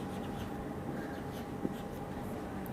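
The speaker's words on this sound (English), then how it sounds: "I'm going to write it directly." Pen writing on paper while working an algebra problem, a steady soft scratching that continues without a break for nearly three seconds, close but quiet, with no talking.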